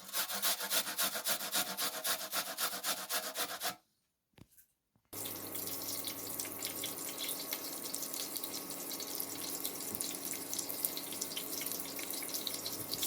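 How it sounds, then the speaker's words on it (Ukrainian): An onion is grated on a fine grater: steady rhythmic rasping, a brief pause, then continuous rubbing scrapes, close and fairly loud. "На дрібнішій терці я натираю одну цибулину."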